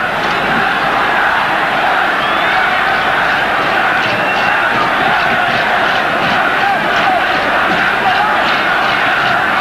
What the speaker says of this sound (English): The crowd chanting Zambia as he still come forward.